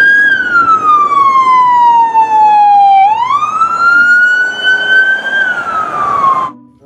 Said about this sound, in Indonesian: lihat teman-teman, ada mobil polisi